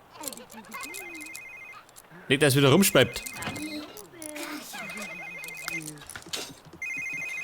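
An electronic phone ringtone chirps in repeated bursts over The Sims 3 game music and effects, with someone talking over it.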